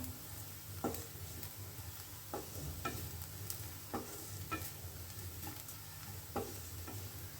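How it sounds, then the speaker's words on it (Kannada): Finely chopped cluster beans fry in a pan until crispy, giving a steady low sizzle broken by sharp scraping stir strokes at irregular intervals; no voices. "ಈ ಥರ ಫ್ರೈ ಆಗಬೇಕಿದ್ರೆ ಚೆನ್ನಾಗಿ ಕ್ರಿಸ್ಪಿ ಆಗುತ್ತೆ"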